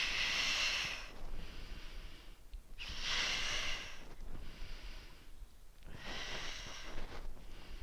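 During a total-body strength workout, heavy, close breathing rises and falls in slow cycles, with three strong, rasping exhales about three seconds apart and softer inhales between them, and no one talking.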